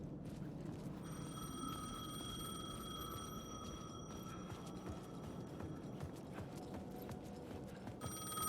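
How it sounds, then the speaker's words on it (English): A payphone rings in the Alan Wake II video game, a bright sustained electronic bell tone that repeats over a dim murmuring background with faint clopping footsteps, no talk heard. "The payphone was ringing."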